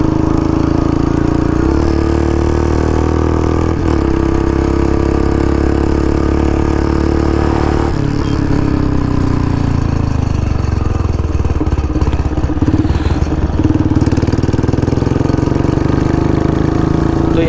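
Two Royal Enfield Bullet motorcycles, a new BS6 model and an older one, race side by side with loud, continuous engine drone and thumping exhaust throughout, close to the microphone and never letting up.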